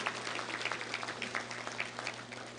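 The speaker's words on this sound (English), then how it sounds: "Let's give a big round of applause to Simmons Bank and all of our great sponsors here today." Applause from a luncheon audience at a Little Rock Touchdown Club gathering, a steady wash of clapping with scattered sharper claps over a constant low hum, moderately faint.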